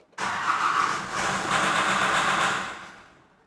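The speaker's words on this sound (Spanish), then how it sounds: "Ese traqueteo del motor y obviamente se acaba de apagar" A Nissan YD25 diesel engine with an ECU fault cranks and catches, running with a rough rattling clatter for a few seconds before dying away and stalling; loud, close and alone.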